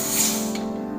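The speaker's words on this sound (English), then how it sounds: "This is the real result cutting by the handheld laser welding machine, welder." A handheld laser welding machine cuts 3mm stainless steel with a loud, continuous close-up hiss and a steady tonal hum underneath, lasting a brief moment.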